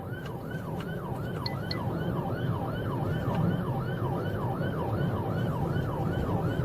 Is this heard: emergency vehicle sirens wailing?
yes